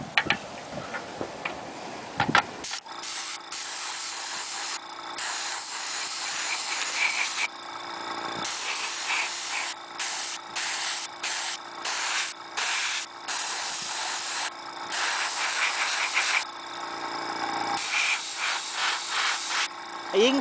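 An airbrush sprays thinned paint onto a custom My Little Pony figure in repeated hissing bursts of a few seconds each, separated by short pauses, close to the microphone.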